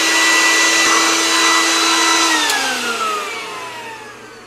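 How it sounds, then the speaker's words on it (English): A vacuum cleaner runs steadily on the floor around a heater, a loud, close whine and whir that holds level, then drops in pitch and fades slightly toward the end as the motor winds down. "Alright, that completes the vacuuming"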